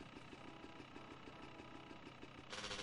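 A motorcycle engine in GTA San Andreas idles with a faint, even, pulsing putter, then swells into a louder, brighter rev near the end, with no talking.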